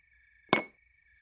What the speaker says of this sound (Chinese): 好吧，干杯。